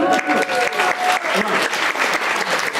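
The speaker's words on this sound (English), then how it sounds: "A little round of applause, guys." A dense round of audience applause fills a talk venue, loud and steady from start to end with no break in the clapping.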